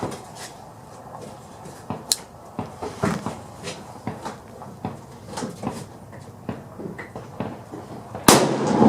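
Single shots from a Savage Axis heavy-barrel .308 rifle sound as a series of sharp, spaced cracks at an outdoor range, with a louder report near the end.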